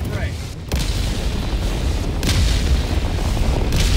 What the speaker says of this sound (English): Look at your ship. It's shooting at us.